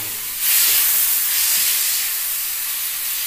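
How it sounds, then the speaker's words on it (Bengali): A splash of water hits hot spices frying in oil for a potato singara filling, setting off a sudden loud hiss that keeps sizzling steadily and close for a few seconds. "এক চিমটে একটু জল দিয়ে নিচ্ছি, যেহেতু থালার মধ্যে জলটা লেগে আছে মশলাপাতিগুলো"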